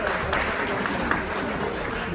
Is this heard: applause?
yes